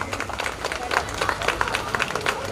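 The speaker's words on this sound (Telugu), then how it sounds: "మూర్తి గారికి ఒక్కసారి మనందరం క్లాప్స్ కొట్టాలి ప్లీజ్" An audience at a Maha Shivaratri celebration breaks into applause for a man named Murthy, a dense burst of many hands clapping at moderate distance with some voices mixed in.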